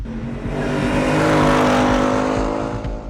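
A loud Ford Mustang GT 5.0-litre Coyote V8 engine revving up and holding a deep, throaty roar that swells and then eases off, close and powerful.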